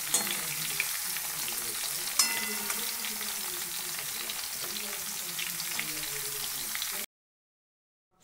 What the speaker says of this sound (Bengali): আমি ফুলকপিগুলোকে উল্টে পাল্টে দুটো পিঠ লাল করে আমি ভালোভাবে